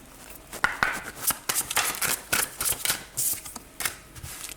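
Tarot cards shuffled by hand for a new reading, a close, quick run of riffling and flicking snaps, fairly soft and without speech.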